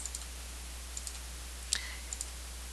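Sparse, quiet clicks of keys being pressed on a TI-84 graphing calculator, a few soft taps spaced out over a faint steady hiss, with one slightly sharper press near the middle.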